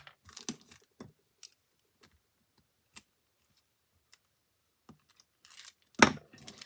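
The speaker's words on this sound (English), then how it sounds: "So I'm going to put some tear tape here." Tear tape is handled, applied and peeled on a handmade shaker card, with sparse small clicks and papery ticks and a louder crinkly, ripping burst near the end, all close and quiet with no talking.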